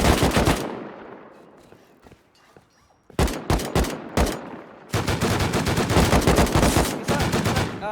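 Gunfire erupts in the survival video game Rust, with loud bursts of automatic fire and scattered single shots, a brief lull, then sustained rapid firing close by.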